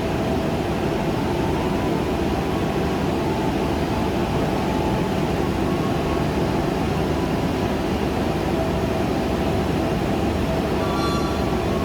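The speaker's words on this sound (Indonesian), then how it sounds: "Kereta api Singasari menyusul kereta api Bengawan di stasiun Lempuyangan." Inside the Singasari executive train, a steady, loud rumble of wheels on rails and carriage noise continues without pause as it overtakes the Bengawan train at Lempuyangan station.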